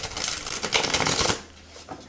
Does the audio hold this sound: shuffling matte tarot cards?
yes